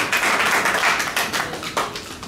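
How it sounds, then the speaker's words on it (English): Conference audience applauding at an investment and repatriation gathering in Ghana, a dense, steady wash of many hands clapping that swells and fades slightly over a couple of seconds, with no voices on top. "So give yourself a great round of applause."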